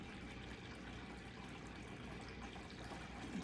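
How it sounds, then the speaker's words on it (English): Water cascading, a dense, steady rushing wash that stays even throughout without breaks. "cascading in the water."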